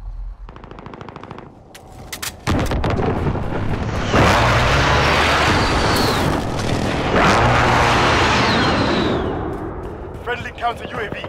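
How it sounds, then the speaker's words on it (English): Precision airstrike explosions in Call of Duty: Modern Warfare: a dense, continuous barrage of heavy blasts and rapid gunfire, loud and close, swelling twice into roaring waves before fading near the end. "Precision airstrike on the way."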